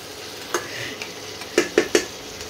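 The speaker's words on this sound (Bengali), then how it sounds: "এত বড় বড় দাঁড়া তো একটু বুঝে শুনে আস্তে ধীরে নাড়াবে" A spoon stirs crab curry with large claws in a pan, giving several scraping knocks, three of them close together near the end, over a low steady simmering sizzle.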